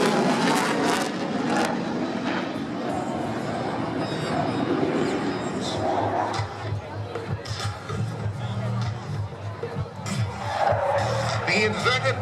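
A Dassault Rafale fighter jet roars past inverted at an airshow in Singapore, its loud engine rumble filling the air while a crowd murmurs and a voice talks over it.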